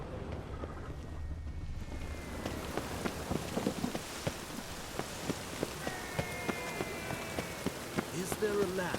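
Rain falling in the video game The Witcher 3: Wild Hunt, a steady patter of drops under scattered footsteps, with faint voices and whistle-like tones drifting through.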